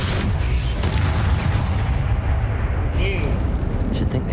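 A Confringo explosion spell bursts in the Hogwarts Legacy video game, a loud rumbling blast that roars and then decays into a lingering low rumble, with a brief softer pop near the end.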